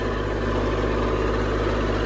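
Tractor pulling a Land Pride tillage implement in the fall, its engine holding a steady, even low hum and rumble throughout, close and unbroken, no one speaking.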